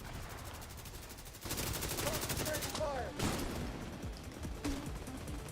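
Gunfire in Tom Clancy's The Division 2 erupts in dense bursts after a quieter opening, sustained rapid shots mixed with combat clatter and brief voice sounds, loud and near.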